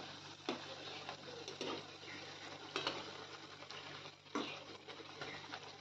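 Potato bhaji fritters frying in oil while being flipped, a faint steady sizzle with several scraping, clinking taps of a utensil against the pan at irregular moments.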